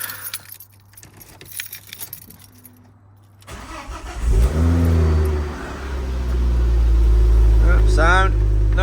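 Keys jangle close by, then a Ford Focus ST engine cranks and fires up after a spark plug change, settling into a loud, steady idle with a brief rev.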